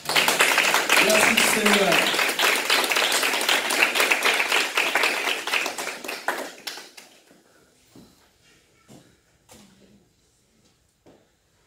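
Church congregation at a worship service clapping loudly in sustained applause to acclaim Jesus, dense and steady for several seconds before fading into sparse claps, with a voice speaking briefly.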